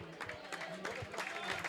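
Applause from a football crowd at a Chester versus Guiseley match, greeting players warming down; steady, fairly faint clapping from a distance, with a commentator talking over it.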